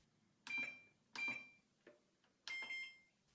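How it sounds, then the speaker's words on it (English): An appliance control panel gives a feedback beep on each button press: three short, bright tonal chirps with a brief blip between them, spaced about a second apart, quiet and close with no talk. "Pressing buttons doesn't just give you a basic beep for feedback."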